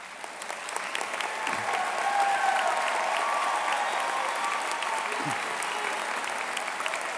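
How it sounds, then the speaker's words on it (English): Sustained applause from a large audience at a University of Houston graduation ceremony, as honors students stand; steady, dense clapping fills the hall throughout without pause. "Would all of the cum laude students please stand and accept our applause?"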